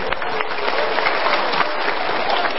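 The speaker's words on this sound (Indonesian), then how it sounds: "Ya, kita berikan tepuk tangan." A crowd applauds people being welcomed onto a stage, many hands clapping in a continuous, fairly close patter from start to finish.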